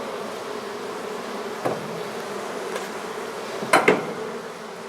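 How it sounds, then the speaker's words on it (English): Honey bees buzz around an open cooler during a hive removal, a continuous close droning swarm interrupted by a couple of sharp knocks near the end. "Now these bees in the cooler, I just leave it open and they fly back home."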